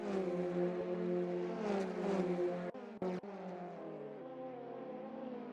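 Polo Cup race cars driving on a racing circuit in East London give a steady, fairly quiet engine whine with shifting tones, briefly dipping as the sound cuts, then resuming.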